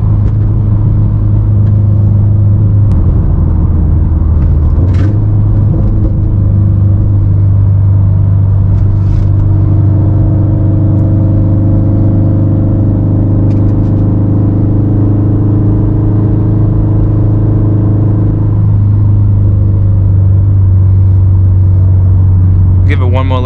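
A turbocharged Subaru STI running E85 and making 400 wheel horsepower pulls hard in sport mode, heard from inside the car as a loud, continuous engine drone with layered rising tones over heavy road rumble.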